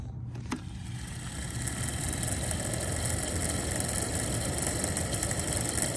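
Heater motor in a Winnebago coach spinning after a repair, a steady mid-pitched whir with a faint whine that sets in after a brief click and holds evenly, close by.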